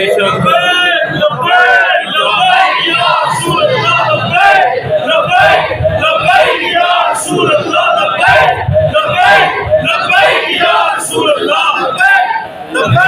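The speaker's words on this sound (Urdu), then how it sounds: "ہم لبیک یا رسول اللہ کا نعرہ لگاتے رہیں گے" A large crowd at a religious gathering honoring Hazrat Ali shouts the slogan Labbaik Ya Rasool Allah in loud, rhythmic waves of massed voices that fill the space continuously.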